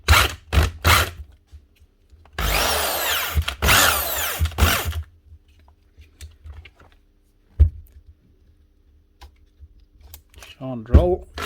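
A Bosch corded power drill on a repair bench whirs in several short bursts and one longer run near the start, then falls quiet apart from scattered clicks and handling noises, with speech at the end.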